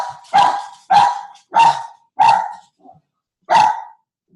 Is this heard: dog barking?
yes